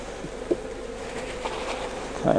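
Honeybees hum steadily and close by around an open Langstroth beehive, a dense continuous buzz that swells slightly toward the end, with no talking.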